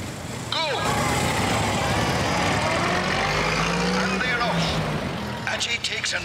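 Motorbike engines roar loudly and steadily for several seconds during a race, a revving motor drone close by, with a sharp burst at the start and fading toward the end.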